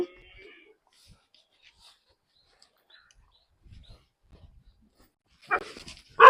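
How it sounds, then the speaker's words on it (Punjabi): Near silence with faint scattered noises, then a short burst of dog barking right at the end, fairly close. "ਕੁੱਤਾ ਪੈ ਗਿਆ"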